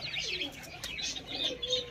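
Fancy pigeons arriving at a loft, with soft coos and chirps plus a brief flutter of wings, close and quiet with no talk.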